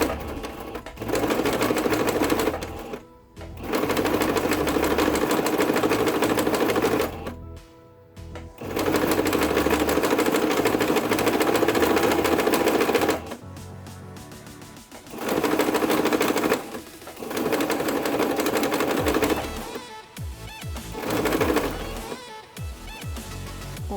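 An industrial straight sewing machine hems knit fabric in loud, fast, steady runs of stitching, stopping and restarting several times with short quiet pauses between runs.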